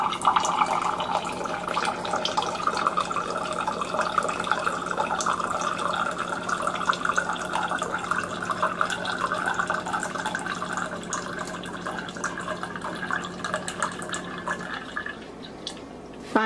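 Tap water pours steadily into a glass for about fifteen seconds, a continuous close splashing that rises slightly in pitch as it fills, then stops.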